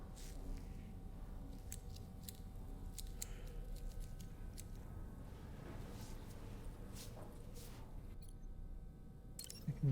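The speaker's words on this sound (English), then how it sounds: "he's cutting the hair" Scissors snip through hair in Death Stranding 2, a series of crisp, close clicks spaced irregularly over a quiet low hum.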